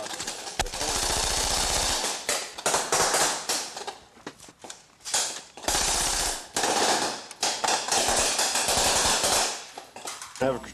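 Gunfire from firing teams during a 1982 training exercise, sustained rapid automatic bursts at the start and again midway, with scattered single shots and voices and shouting mixed in.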